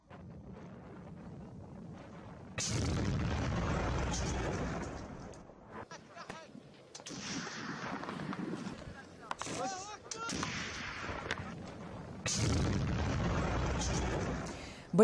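Bombs from an Iraqi Air Force F-16 airstrike burst near Mosul, heavy broadband blasts swelling into sustained rumbling roars, with a quieter rushing interval between the loud bursts and another strong blast near the end.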